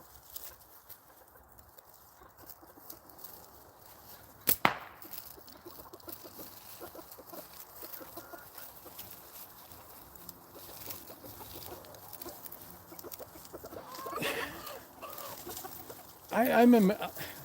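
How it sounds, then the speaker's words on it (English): Backyard chickens cluck and murmur faintly throughout, with a couple of louder bird bursts near the middle and end, set in an outdoor rural shooting spot. "Usually the chickens don't bug me too much."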